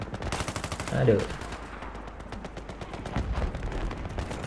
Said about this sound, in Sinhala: මේවා මැෂින් ගනුත් තියෙනවා කියන්නේ